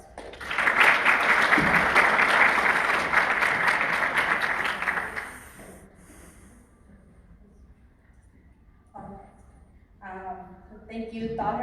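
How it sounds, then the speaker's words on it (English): A round of audience applause at an Islamic seminar event, loud and full for about five seconds before dying away, followed by quieter room noise and a few voices talking. "Please join me one last time to give them a round of applause."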